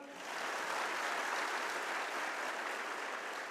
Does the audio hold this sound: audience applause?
yes